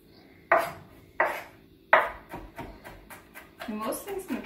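Garlic is chopped finely with a knife on a cutting board in a home kitchen while making spring minestrone soup. Three sharp, close knocks are followed by a quicker run of lighter taps, with a voice speaking briefly near the end.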